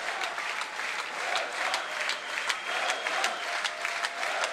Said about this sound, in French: tout le stadium hein, du FDI qui est debout pour acclamer ces deux champions